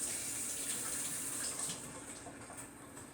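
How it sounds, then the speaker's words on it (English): Tap water runs steadily over fingers at a kitchen sink during baking, making a soft continuous hiss and splash. It is fairly faint and eases slightly toward the end, with no talk. "I'm going to rinse my fingers real quick here"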